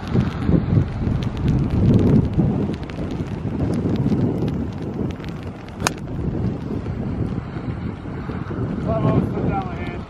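Strong gusting wind buffets the microphone on a links golf course by the sea, roaring and swelling in waves throughout, with no voices.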